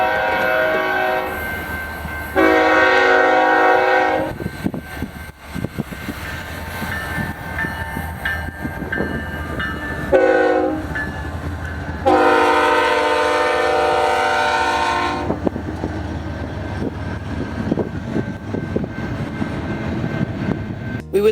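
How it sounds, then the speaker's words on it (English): A westbound BNSF freight train led by locomotive 6619 rumbles past on the Cajon Subdivision mainline to LA, its horn blaring in two long loud blasts over the steady roar of the passing cars. "Our first train of the day would have BNSF 6619 leading"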